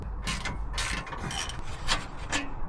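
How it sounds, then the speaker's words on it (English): A hand tool works the brake pad retaining screws on the rear brakes of a Land Rover Defender Td5, giving quiet, close ratcheting clicks and metallic rubbing in uneven bursts. "take out these two screws that hold the brake pad in place to be able to remove the disc"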